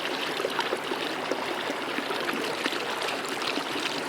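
A creek flows steadily outdoors, with a continuous close rush and trickle of running stream water and no voices.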